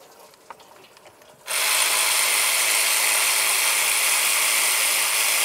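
After a brief quiet moment, a loud, steady mechanical whir of a power ratchet removing a water pump bolt on a Nissan Titan engine starts up and runs continuously, close by.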